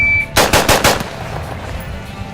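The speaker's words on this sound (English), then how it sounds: "it's impossible to fire 30 rounds out of a semi-automatic AR-15 in half a second" A semi-automatic AR-15 rifle fires a rapid string of about five loud, sharp shots in quick succession, each ringing out and fading into the open air, with no voices.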